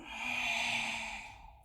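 One long, steady exhale of breath during a yoga cat-cow stretch, close and soft, swelling slightly and then fading out.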